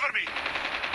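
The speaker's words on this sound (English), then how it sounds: "This shotgun is the best shotgun." Rapid shotgun blasts ring out in a Call of Duty multiplayer match, a quick run of sharp, evenly spaced shots packed into a second of loud gunfire.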